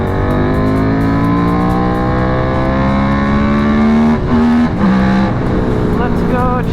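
Kramer GP2 prototype race motorcycle engine on a racetrack hot pit, a loud, steady high-revving drone with sustained tonal whine and brief pitch shifts as the throttle changes near the end.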